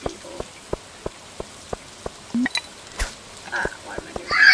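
Rain patters in the farming video game Stardew Valley, a steady series of soft, evenly spaced drops ticking alone, joined near the end by brighter game chimes.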